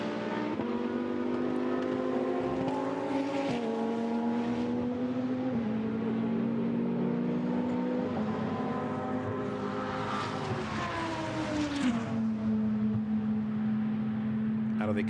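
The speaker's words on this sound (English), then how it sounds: "Out of the Curva Grande then goes the 7th and 8th place battle, Klaus Angelhofer on the tail of Joseph Coll" GT2 race cars at Monza exiting the Curva Grande, engines droning continuously with rising and falling pitch as cars pass, loud and sustained under a commentator's voice throughout.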